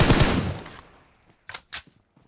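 A rapid burst of automatic gunfire in the BGMI battle royale game, followed after a short pause by two sharp, separate shots, loud and close with no talking.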